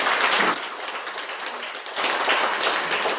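Audience applause at a traditional arts festival in Seoul, loud bursts of clapping that thin briefly in the middle before swelling again.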